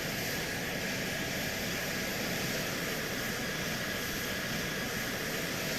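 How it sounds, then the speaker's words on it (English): Fighter jets flying in formation make a loud, steady broadband roar that stays dense and unbroken for the whole stretch, with no voices over it. "These fighter jet pilots flying in formation."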